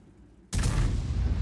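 A tank gun in a video game fires at an EBR: one abrupt, heavy boom cuts through near-silence and rolls straight into a loud, sustained rumble that keeps going to the end.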